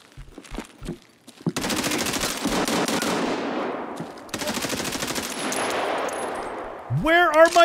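Automatic gunfire in the video game Escape From Tarkov, 0.12.3, on the Shoreline map: a few isolated shots, then two long, loud, rapid bursts of rifle fire, followed by a brief electronic sound.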